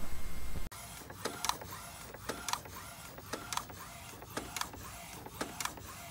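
Inkjet printer printing a photo: a loud burst of noise at the start gives way to a steady mechanical hum, with repeated sharp print-head passes and clicks arriving roughly every second.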